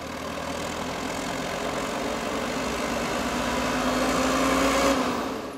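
A Valmet 6400 tractor idles with a straight exhaust pipe, a loud, deep, steady diesel rumble with a knocking pulse that swells slightly toward the end, heard up close with no talk.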